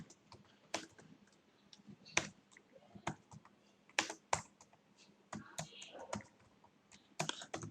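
Close, quick tapping of keys on a computer keyboard in uneven bursts, with a soft voice faintly underneath.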